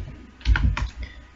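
A few soft keyboard keystrokes at a computer during C programming, clustered in a short burst of clicks against a quiet room with faint low hum.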